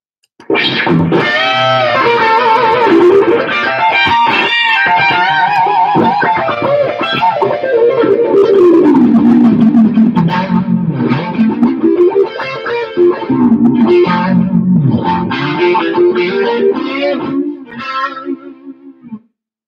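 A heavily distorted electric guitar plays a sustained melodic line with thick, chorused tone, loud throughout and fading out at the end.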